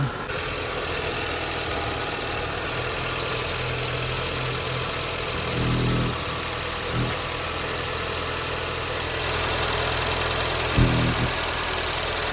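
A Nissan Qashqai engine idles steadily throughout, a constant low rumble with broadband noise, briefly swelling a couple of times.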